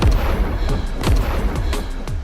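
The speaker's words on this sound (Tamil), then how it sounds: "பட்டாசு வெடிக்கிறாங்க." Firecrackers burst in the Roblox game Escape Tsunami for Brainrots, a rapid string of sharp booming pops with low thumps, repeating several times a second with no voices.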